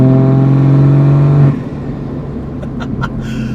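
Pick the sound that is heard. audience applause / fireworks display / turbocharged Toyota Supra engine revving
turbocharged Toyota Supra engine revving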